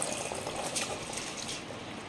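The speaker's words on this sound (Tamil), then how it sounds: "இதில் தண்ணி இருக்குது, அப்படியே சேர்த்துக்கிறேங்க." Water pouring into washed basmati rice for a country-chicken biryani, a steady wet rushing pour lasting throughout at moderate level, with no talk.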